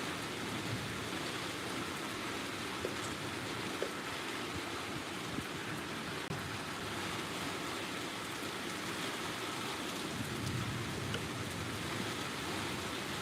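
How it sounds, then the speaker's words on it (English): Steady rain falling outdoors in Alaska during a live stream, a continuous even hiss of drops with no speech and no distinct thunder. "Can you guys hear the rain coming from that way?"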